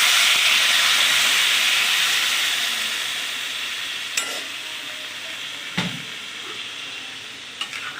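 Water poured onto spices, elephant foot yam and potato frying in a pan sets off a loud steady hiss that slowly fades, with a few sharp clinks of a utensil toward the end.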